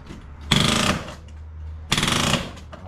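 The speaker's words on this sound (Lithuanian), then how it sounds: "Pas mumis ten vėl geniukas atskridęs į statybą." A woodpecker drums on building materials at a construction site in two fast bursts of rattling knocks, each under half a second. A steady low hum runs underneath.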